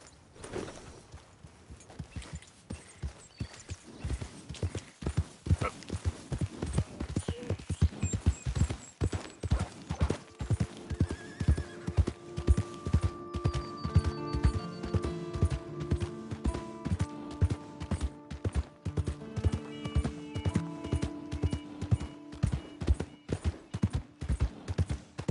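Horse hooves clip-clopping in Red Dead Redemption 2, a steady close walking rhythm that continues throughout, with occasional faint snorts and soft music-like tones layered underneath.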